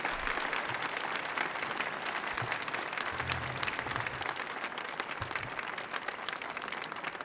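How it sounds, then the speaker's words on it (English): Audience applause after a traditional performance at the Millennium Stage, a dense, even patter of many hands clapping that continues steadily throughout at moderate, somewhat distant level. "Another round of applause for Terukina Sensei"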